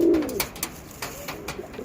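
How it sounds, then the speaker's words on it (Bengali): Andhra Lalsira breeding pair of pigeons cooing close by, a rolling coo at the start followed by soft scattered rustles and faint clicks, no talking. "এটা আমরা লাল শিরা পায়রা"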